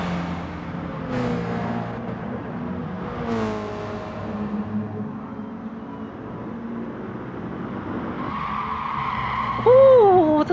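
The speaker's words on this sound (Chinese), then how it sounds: "哦，这个轮胎声" Race cars in Gran Turismo Sport screech as their tires squeal through a corner, with wavering engine tones that rise and fall. A sharp squeal near the end is louder and closer.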